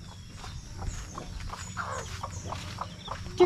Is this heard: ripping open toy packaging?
no